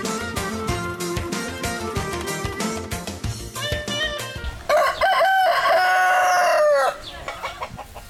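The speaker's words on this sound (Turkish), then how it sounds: "Tavuklara bakıyoruz." Chickens cluck and a rooster crows at a village coop in Bolu, Turkey; steady clucking through the first half, then a loud, long crow near the end, with no talk.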